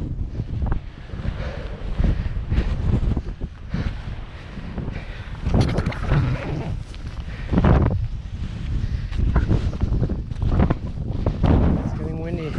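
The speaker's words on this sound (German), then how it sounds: "It's getting windy." Strong wind buffets the microphone on the way up Pico Mountain in the Azores, giving continuous loud rumbling gusts that rise and fall.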